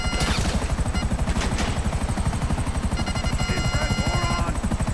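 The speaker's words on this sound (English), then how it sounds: "I'm bringing the chopper in" A helicopter in the GTA 5 Online video game chops steadily with a fast, rhythmic rotor thump that carries on without a break, with faint game noises scattered over it.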